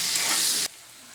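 Diced potatoes frying in a pan until browned, giving a loud, close, steady sizzle that cuts off abruptly partway through and leaves only a faint hiss.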